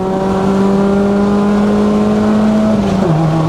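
A cammed SR20 engine in a Nissan Almera GTi pulls hard from first gear, its rising engine note loud and steady from inside the car, with a brief dip near the end as it shifts.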